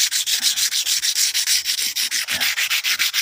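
Sandpaper rubbed by hand over a fiberglass repair, a loud, close, steady back-and-forth scraping in quick even strokes, about six per second, with no talk.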